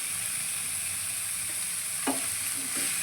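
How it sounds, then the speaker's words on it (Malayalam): A tomato mixture sizzles steadily in a pan for a Maggi pasta dish, with a couple of brief scraping stirs of a utensil cutting through the even frying hiss. "തക്കാളിക്കൂട്ടന് ഇട്ട് കൊടുത്തു"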